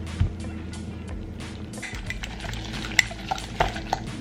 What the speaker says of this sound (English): Mix it really good.